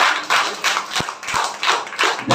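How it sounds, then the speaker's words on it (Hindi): An audience at a kavi sammelan in Bharatpur on Maharana Pratap applauds the poet Dharmendra, giving loud, close clapping in uneven bursts with a few sharper single claps. "एक बार जोरदार ताली एक बार और हो जाए इनके लिए।"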